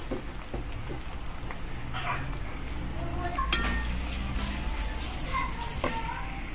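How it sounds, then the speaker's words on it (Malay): Onions frying in hot oil for beef nihari, a steady crackling sizzle with occasional stirring clinks of a utensil against the pan, at moderate level, while a person speaks over it at times. "Minyak kita dah panas, kita terus goreng bawang ni dulu, okey."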